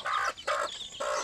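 Farmyard hens cackle in three quick, loud nasal bursts up close, an insistent broken rhythm of clucks with short gaps between.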